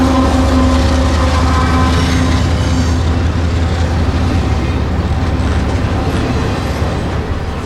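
A CSX intermodal hotshot freight from Jacksonville to North Bergen, New Jersey, loaded with single-stack containers and piggyback trailers, rolls past close and loud, a dense steady roar of engines and wheels with sustained humming tones.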